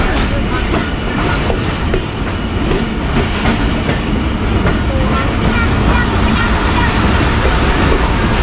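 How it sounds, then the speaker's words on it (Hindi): Passenger train pulling out of Sheikhupura Junction station in Pakistan, on the Badar Express from Lahore to Faisalabad. Loud, steady rumble with rhythmic wheel clatter and occasional squeals, and faint voices mixed into the din. "स्टॉप करने के बाद ट्रेन अब किला शेखुपुरा जंक्शन को अलविदा कह रही है"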